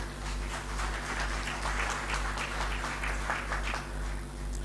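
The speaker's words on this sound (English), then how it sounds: "Can we give them a round of applause?" Audience at a Justice of the Peace association sensitization session in Manchester claps steadily for the police, a soft even patter of applause lasting several seconds over a low steady hum.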